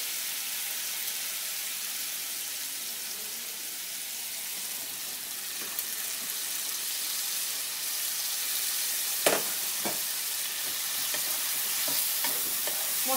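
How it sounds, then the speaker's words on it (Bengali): Banana stem stirred into a spice paste frying in a pan for a Bengali prawn dish, a steady broad sizzle with scattered scraping stir clicks growing busier toward the end. "মশলাটা নাড়া হয়ে গেছে, এখন এর মধ্যে থোড়টা দিচ্ছি।"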